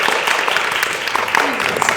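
Brief burst of audience applause for a film title at a comedy show, a dense patter of clapping that fills the full two seconds alongside a voice.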